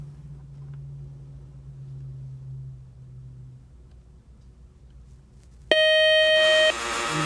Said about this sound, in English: that buzzer means the end of our match